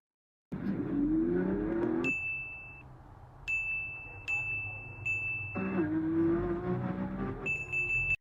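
A car driven at high speed, near 96 mph in a 35 mph zone, gives a steady loud engine and road roar with rising tones, while a repeated high electronic chime beeps over it.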